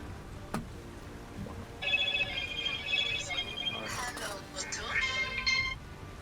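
A mobile phone rings with bright, repeating electronic tones during a tabletop roleplaying game session, while people keep talking quietly underneath.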